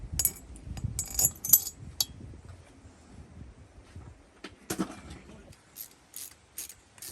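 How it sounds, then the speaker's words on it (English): Ratchet clicking while tightening cylinder bolts on a Peugeot Vivacity scooter, short bursts of close metallic ratcheting with clinks and pauses between turns. "So the bolts for the cylinder are going in."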